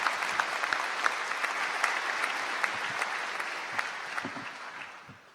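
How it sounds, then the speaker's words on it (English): An audience at a university commencement ceremony claps steadily, moderately distant, with a few sharper claps standing out before the applause tapers off at the end. "Please welcome him."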